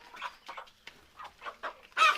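Two tiger chickens kept in a small enclosure give a series of short, close clucks in irregular bursts, ending with a louder, sharper squawk.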